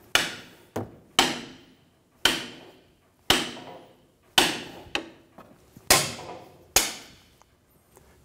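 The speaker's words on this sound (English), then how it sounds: "Continue tapping and eventually the ball joint will come out." Hammer blows on a wrench to free a ball joint from the front control arm of a 2010-2014 Subaru Outback: eight sharp metallic taps at an uneven, unhurried pace, close and loud, each ringing briefly, with no talk.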